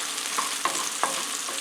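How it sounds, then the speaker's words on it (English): Onions and serrano peppers frying in a pan at home, giving a soft steady sizzle with a few short stirring scrapes, close and alone with no talk. "I got a nice sizzle going on these."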